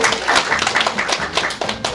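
An audience applauds to welcome a speaker at a 2018 high school admissions briefing, dense continuous clapping from a crowd, loud and close throughout.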